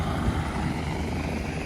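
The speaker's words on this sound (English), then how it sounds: "Helicopters everywhere." A helicopter flies over a North Carolina disaster area, its dense rotor and engine roar steady and loud throughout, with no voices.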